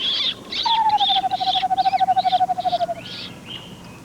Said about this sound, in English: this screech owl's putting on a pretty good show